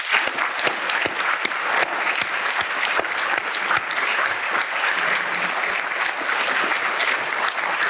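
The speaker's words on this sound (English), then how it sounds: "Please give them a round of applause." An audience at a college event gives donors sustained, brisk applause, many hands clapping steadily and evenly for several seconds with no break.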